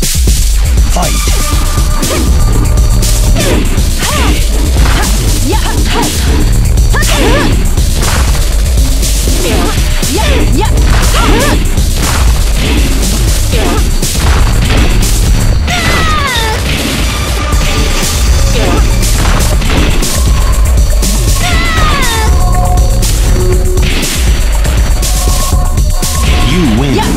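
Dense, loud fighting-game combat from Tekken 5 Dark Resurrection, with Nina trading rapid hits, smashes and thuds over a constant music-and-effects bed across a full round.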